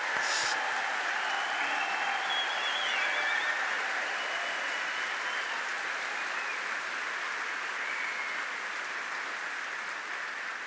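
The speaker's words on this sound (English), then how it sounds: "Let's give them a round of applause." Audience applause at the 2025 Goldman Environmental Prize award ceremony, a dense, steady wash of clapping from a large seated crowd that holds for about ten seconds with no talk.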